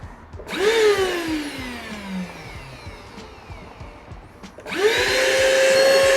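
An AstroAI TC3 tire inflator motor starts up with a rising whine, runs in deflate mode and winds down, then kicks on again loudly near the end, heard close with a steady pumping rattle underneath.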